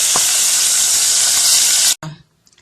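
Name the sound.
sauce cooking with sizzle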